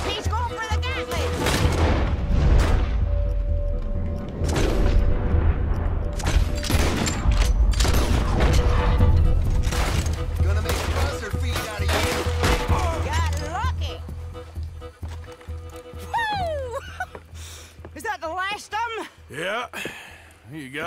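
A Gatling gun fires in Red Dead Redemption 2, long rapid bursts of heavy booming shots that dominate most of the stretch, then thin out into scattered reports while voices talk near the end.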